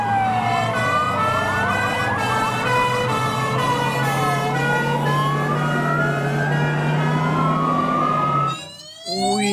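Toy fire truck with a water cannon sounds its electronic siren, a loud wailing tone sweeping up and down steadily for about nine seconds before cutting off abruptly.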